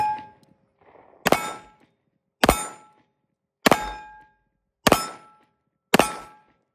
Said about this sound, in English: I'm just going to shoot this one double action.